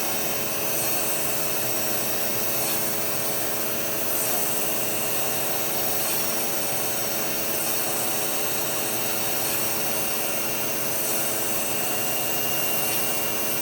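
A cam grinder grinding a worn camshaft lobe in a cam shop, a continuous loud, even whirring and hissing grind that holds steady throughout with no talk.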